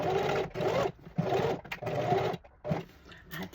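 Sewing machine stitching through fabric, fleece lining and two layers of blanket, in several short loud bursts of rapid whirring separated by brief pauses.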